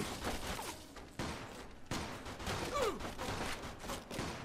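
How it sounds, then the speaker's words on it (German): Submachine gun fire in the World War II era crime game Mafia II, a sustained loud fusillade of overlapping bursts with a few sharp cracks standing out through the whole stretch. "Die ballern aus vollen Rohren auf mich!"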